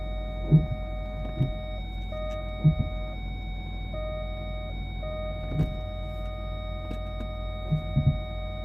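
An electric parking brake on a Range Rover Vogue Overfinch with a fault engages with a brief electric motor whir and a few soft clicks, close by, over a steady low idling hum inside the vehicle.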